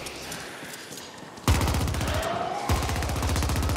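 Rapid automatic gunfire from the video game The Ascent, a dense stream of shots that bursts in loud and close at about 1.5 s and intensifies again at 2.7 s, continuing without pause.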